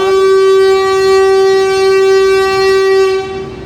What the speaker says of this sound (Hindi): हॉर्न बज चुका है।